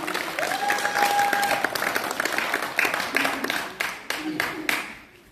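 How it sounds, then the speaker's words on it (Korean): A crowd applauds loudly and steadily for several seconds at the opening of a badminton club tournament, and the clapping thins out toward the end. "박수 한번 주세요."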